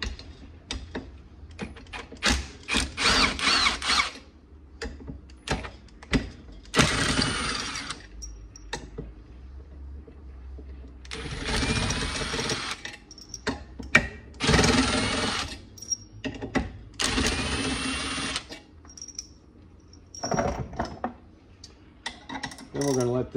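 Power tool removing the clutch bolts on a Polaris General XP, heard as several separate bursts of whirring and ratcheting, each a few seconds long, with quieter mechanical handling noise in the pauses.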